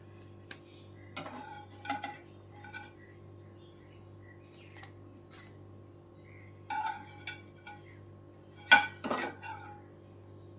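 Toasted garlic bread slices set into a tray make several separate clinks and clatters of metal and dishes, spaced irregularly against a quiet kitchen hum, one louder knock near the end.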